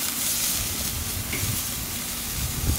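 A thin-cut porterhouse steak sizzles loudly in a pan right after the flip, a dense, continuous frying hiss with no talking.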